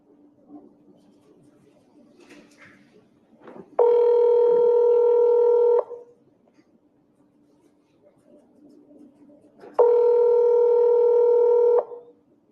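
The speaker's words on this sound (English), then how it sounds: "So here goes the phone call." Ringback tone of an outgoing telephone call sounding twice as two steady, loud two-second tones with a long gap between them, faint background noise in between.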